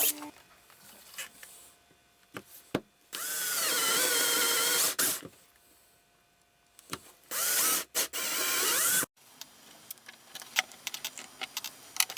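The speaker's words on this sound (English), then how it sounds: "I just went ahead and drilled them holes" Two long, whining bursts of a power drill boring holes into wood for a hanging bird feeder, separated by quiet stretches of clicks, taps and handling knocks.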